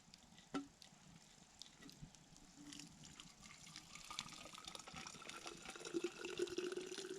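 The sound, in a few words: pouring hot water to fill a container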